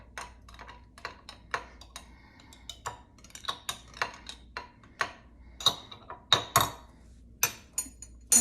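A spoon stirs vanilla chia pudding in a dish, making a string of sharp, close clinks and taps against the sides at an uneven rhythm, each one clear against near silence.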